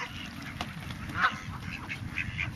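Several ducks quack intermittently in the distance over a steady outdoor background, with a few louder honking calls scattered throughout.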